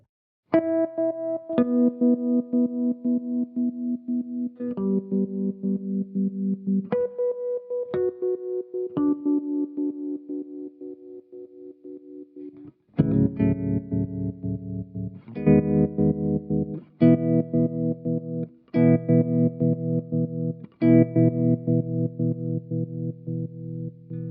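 Pulsing electric guitar notes chopped on and off by a Cusack Tremolo pedal in a steady square-wave rhythm, each chord swelling upward in a ramp, with distorted, effected tone and no talking.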